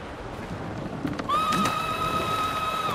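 A horse gives a high, wavering whinny that rises and holds for over a second in a video game, heard close over a steady background wash like rain.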